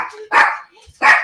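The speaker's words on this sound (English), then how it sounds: "Sorry about the barking, guys." A small pet dog barks indoors, two sharp loud yaps close by with a faint whine between them.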